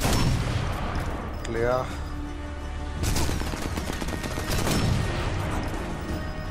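Sniper rifle headshots in the video game Sniper Elite 4, sharp gunshot bursts with booming tails over loud continuous battle ambience; a voice speaks briefly.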